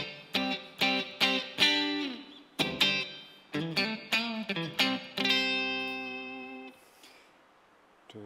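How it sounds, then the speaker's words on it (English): Guitar chords through a Boss GT-1000 extreme reverb setting, strummed in short bursts, each washed in a huge, swirling reverb that rings on and trails away into a long fading tail. "now I've got a completely different reverb. This is an extreme."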